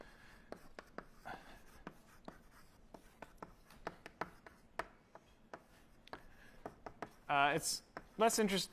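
Chalk taps and scratches on a board during a university mathematics lecture on coin-flip probability, sounding as a steady run of sharp, close strokes, followed near the end by brief talk.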